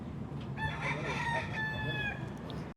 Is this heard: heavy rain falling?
no